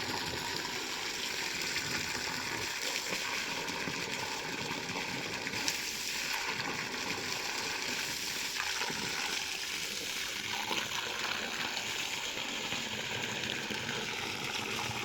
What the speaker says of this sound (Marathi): पाणी जास्तीत जास्त वेळ पाणी देणार आहे